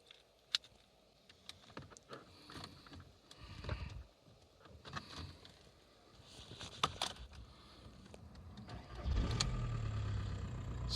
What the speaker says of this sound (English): If I just turn the car on quickly here.